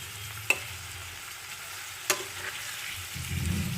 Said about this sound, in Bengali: এই কুচির জন্য পেঁয়াজটা শ্যালো ফ্রাই হচ্ছে